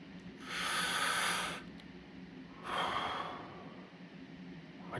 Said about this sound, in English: First thing I'm going to do is take a big breath.